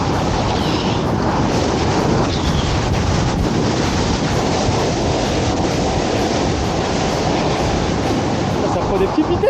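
Surfing in New Zealand brings a loud, continuous wash of ocean waves and spraying water, with wind buffeting the microphone close by throughout.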